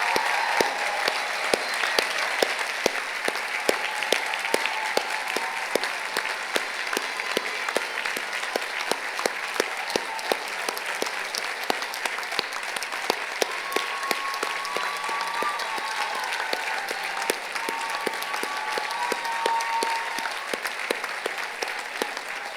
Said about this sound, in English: Let's give another warm round of applause for our wonderful UCI class